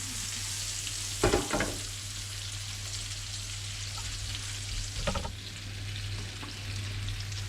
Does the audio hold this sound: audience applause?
no